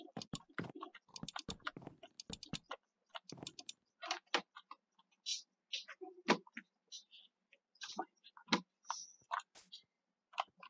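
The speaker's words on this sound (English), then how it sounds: "Intense clicking noise." Rapid computer mouse clicks while playing Minecraft, sharp ticking bursts in quick clusters with short pauses, close and fairly quiet.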